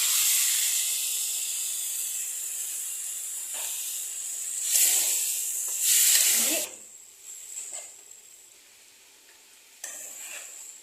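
Water rinsed from turmeric and chili powder hits a hot pan of chingri (shrimp) masala, setting off loud hissing sizzle bursts that swell and fade with stirring, close up and without talk.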